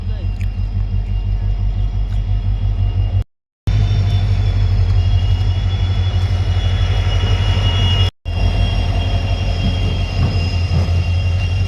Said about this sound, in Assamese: ট্ৰেইন আহিল আমাৰ